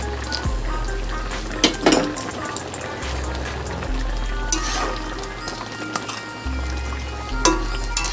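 Fried lentil dumplings dropped into a simmering drumstick curry, giving a steady bubbling sizzle with a few clinks of a utensil against the pot and a low background hum.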